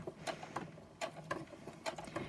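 A sewing machine stitches through paper with black cotton thread, a quiet, even mechanical chatter of rapid needle strokes ticking along steadily and close up.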